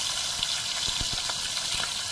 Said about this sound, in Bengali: এবারে তেলে পেঁয়াজ দিয়ে দিচ্ছি।